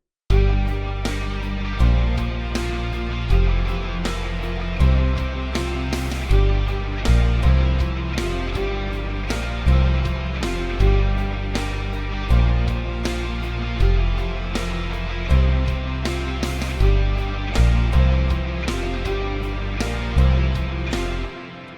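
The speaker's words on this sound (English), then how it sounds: "I've added in some guitars and some synths and some pads." Full band arrangement with guitars, synths and pads over a steady driving drum groove, punchy kicks and crashing cymbals recurring every couple of seconds as the meter shifts between 4/4 and 3/4, loud and continuous with no voices.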